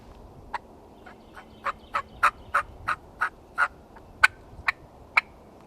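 A diaphragm mouth call imitates a hen turkey, giving a series of about a dozen short, evenly spaced yelps that start soft and grow louder, close and clear with nothing else heard.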